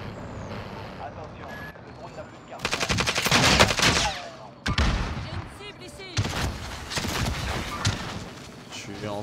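Gunfire in the Warzone battle royale video game: several loud bursts of rapid automatic fire in clusters, nearby, with someone talking in French between and over the shots.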